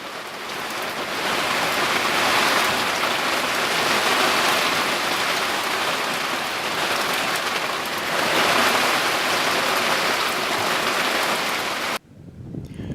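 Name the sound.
heavy night rain downpour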